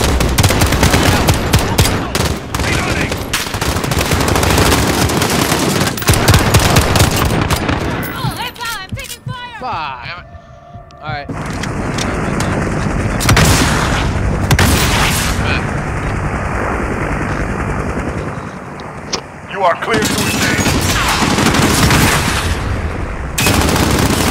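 Gunfire in the Modern Warfare video game, with heavy bursts of machine-gun and rifle shots plus booming blasts over about twenty seconds, easing briefly midway before the shooting builds again, loud and close with occasional voices.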